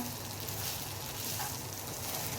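Vegetables and chicken are stirred in a hot pan for pasta, giving a steady, dense sizzle and crackle with soft scraping of the spoon throughout, no voices.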